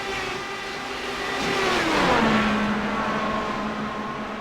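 IndyCar race cars speed around a track in a video game, a loud sustained engine roar with a rising and falling pitch sweep as a car passes, steady and close with no talking.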